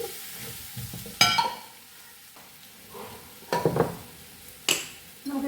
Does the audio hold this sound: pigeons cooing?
no